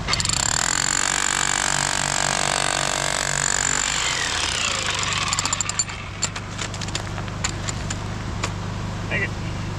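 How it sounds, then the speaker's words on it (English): A big hammer drill driving a chisel into geode-bearing rock, loud steady pounding for about four seconds with an outdoor voice speaking, then the drilling stops and scattered clinks and scrapes of rock follow. "I'm using the big hammer drill on this and I put a chisel through an agate"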